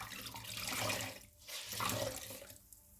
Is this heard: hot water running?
yes